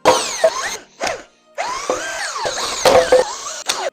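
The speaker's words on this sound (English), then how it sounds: "We can go ahead and start taking out all of the oil pan bolts." A power tool spins in whining bursts with short pauses, loosening the oil pan bolts one after another on an upside-down Corvette engine. It is loud and close, with no talking.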